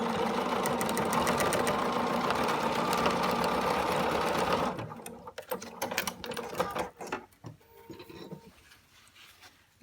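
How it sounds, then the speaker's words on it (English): A sewing machine runs steadily for about five seconds stitching a seam across a denim fly shield for blue jeans, then stops, followed by scattered handling clicks and short bursts. "You sew a 5/8 of an inch seam across the bottom."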